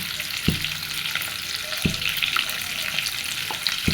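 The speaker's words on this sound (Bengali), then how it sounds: "সেই তেলের ভিতরে এখন এটা একটু ফ্রাই করে নেব।" Something fries in oil, left from earlier deep-frying of fritters, with a steady close sizzle and a few sharp spoon taps or scrapes spaced through it, no voices.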